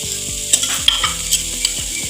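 Chopped carrot pieces sautéing in a pan for carrot poriyal, a loud close sizzle with several clanking stirs of a spoon against the pan.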